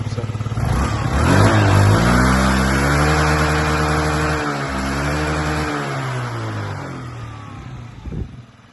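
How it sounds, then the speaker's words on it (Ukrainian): A Yamaha Jog SA36 fuel-injection scooter engine revs up loudly close by, holding a high buzzing drone for several seconds before dropping back and settling to a lower idle, with faint talk at the end. "Ось така робота з цього скутеру."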